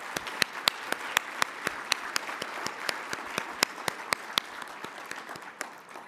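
At a digital inclusion conference, one or a few people clap in a sharp, regular rhythm, each clap distinct and fairly close. A faint wash of crowd applause runs underneath and tapers off at the end.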